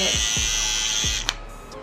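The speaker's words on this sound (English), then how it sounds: "I use a spinning toothbrush. This is the Oral-B brand." An Oral-B spinning electric toothbrush runs with a steady, continuous high-pitched buzz, close up, with a few soft low knocks underneath and no talking.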